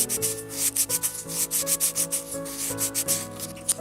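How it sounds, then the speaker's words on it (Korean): Sandpaper of 400 grit rubs back and forth over a miniature bowl, a steady run of short scratchy strokes, close and alone, with a tonal hum sitting beneath the rasping. "중간 단계 400번 사포 사용해서 정리해 줬고요."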